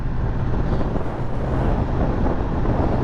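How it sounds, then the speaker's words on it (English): Loud, steady wind buffets the microphone, a continuous low rumbling roar with no pauses and no voices. "Windy day, windy day. Oh yeah, very windy."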